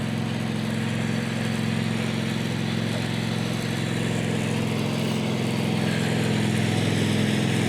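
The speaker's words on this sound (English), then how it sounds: "Yeah, this guy looks like he's racing a golf cart or a lawnmower. So it might get loud for a second." Hoodless lawnmower engine running nearby, a steady droning hum with a constant low tone throughout, unbroken and moderately loud with no talk.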